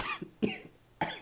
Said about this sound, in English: Got me to coughing.